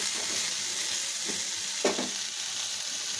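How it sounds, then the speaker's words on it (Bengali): Eggplant fries in a pan of hot oil with a continuous close sizzle, broken by a couple of brief stirring scrapes. "বেগুন দিয়ে ভালোভাবে ভেজে নেব"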